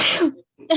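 A single sharp sneeze, loud and close, with a breathy burst fading out, followed by a brief pause and the start of a voice.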